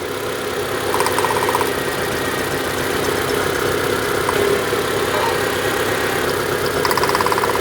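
A Proton Satria 1.5 Magma 12-valve engine idles unevenly with a misfire, a steady close mechanical drone with a faint irregular tick and no talking.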